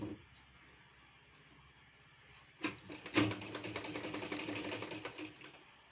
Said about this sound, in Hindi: यहाँ पर अब हम इसे टॉप स्टिच चलाएंगे जिससे इसकी पूरी फिनिशिंग हो जाएगी।